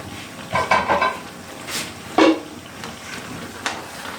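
A utensil scrapes and clatters in a pan as fried green chillies are stirred into a Hyderabadi mirchi ka salan curry, a few bursts of stirring with short pauses between, close and moderately loud.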